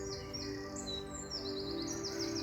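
Birds sing in a soft, continuous outdoor chorus of high chirps and warbling phrases, faint and unbroken over a low steady background hum.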